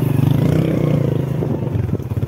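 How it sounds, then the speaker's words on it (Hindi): A motorbike being ridden through a farm field gives a steady, close mid-pitched engine drone with a pulsing rhythm and some rattling clatter, running continuously with no talk. "अभी बाइक बाइक ही चला रहे हैं खेत में"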